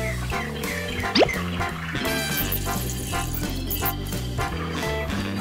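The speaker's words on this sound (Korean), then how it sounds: "이 자연의 그 새소리가 참 좋다" A phone ringtone of nature sounds, birdsong and running water, plays steadily and fairly loud over a layered musical backing, with no talk.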